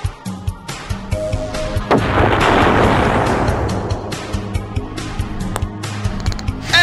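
Explosion blowing up Rocket Ridge on the Crater Demolition hole of 3-D Ultra Minigolf Deluxe, a loud rumbling blast that swells and decays over a few seconds amid clattering debris and game effects.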